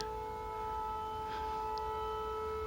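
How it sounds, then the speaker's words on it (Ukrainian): An air raid siren sounds during Russian bombing in Ukraine, a steady sustained wail heard at a distance over faint outdoor background. "Он чуєте? Сирена."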